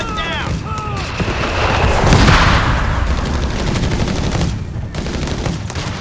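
Dense gunfire and artillery booms from the World War II strategy game Company of Heroes 3 rattle continuously at loud volume, with bursts of machine-gun fire and blasts mixed under in-game voices.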